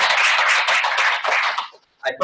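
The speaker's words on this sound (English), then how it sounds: "I want us to give an applause to the cook" Short burst of clapping from a small group honoring a cook at a Nigerian food and culture gathering, brisk and close for under two seconds, then a brief pause and a few sounds at the end.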